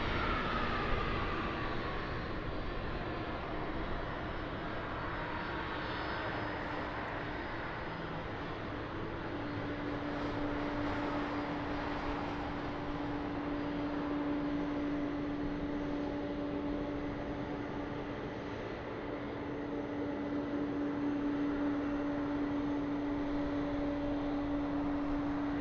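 An airliner taking off at Lisbon Airport, a steady broad jet roar with a sustained engine whine, heard at a distance and holding fairly even throughout, with no voices.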